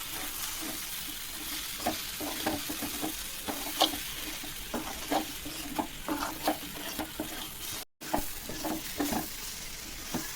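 Tamarind leaf and egg curry being stirred in a pan, a spoon scraping in a steady run of soft, repeated strokes over a low sizzle, with a brief dropout near the end.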